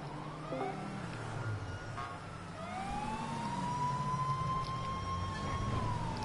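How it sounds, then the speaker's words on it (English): An emergency vehicle siren in a PS4 police video game wails with slow rising and falling sweeps, sounding moderately distant over a steady low rumble of traffic and engine noise, with no one talking. "I hear a siren coming in."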